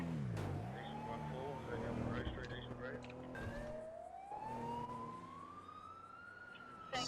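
A video game police pursuit near Paleto, with a wailing siren rising and falling over a loud engine roar, and a person talking over the chase.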